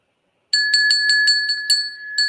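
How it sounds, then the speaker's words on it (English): A vintage crystal bell is rung repeatedly and close, a quick series of bright, clear strikes with a sustained ringing tone sounding through each stroke. "And you can tell it's crystal by the ring of it"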